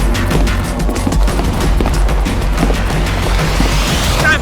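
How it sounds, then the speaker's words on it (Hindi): Gunfire in a Hindi-dubbed Hollywood action movie: rapid bursts of shots and booming impacts pound continuously over a dense, loud soundtrack, with no voices on top. "अरे गोली चली, भागो।"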